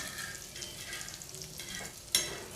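Karli fish frying in a pan with garlic paste crackles in a steady, soft sizzle with faint stirring, ending in a sharp metallic clink near the end.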